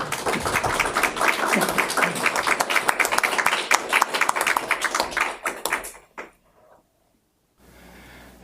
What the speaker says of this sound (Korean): 우리 오늘 강근한 박사님에게 큰 박수로 환영해 주시기를 바랍니다.